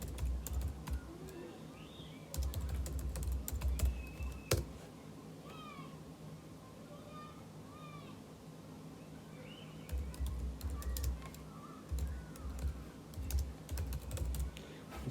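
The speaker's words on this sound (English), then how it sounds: "here they can start typing their adjectives" Keyboard typing in bursts of quick, close clicks, pausing for several seconds midway, with a cat meowing softly now and then in the background.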